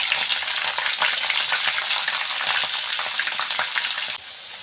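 Crushed garlic, a whole bulb, sizzles and crackles loudly in hot oil in a pan with moong dal and curry leaves, a steady dense frying hiss throughout that drops slightly near the end.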